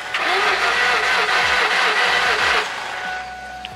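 A flooded engine in an LS-swapped Mustang cranking and struggling to catch, with a loud, rough whirring run broken by several short stumbles before the sound drops away.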